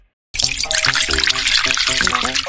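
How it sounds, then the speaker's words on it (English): Liquid pours steadily from a plastic bottle into a tractor's fuel tank, a continuous splashing trickle that starts abruptly after a short silence and runs loud and close to the end. "he poured all his urine into the fuel tank"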